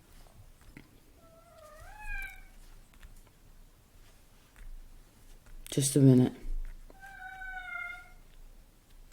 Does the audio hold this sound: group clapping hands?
no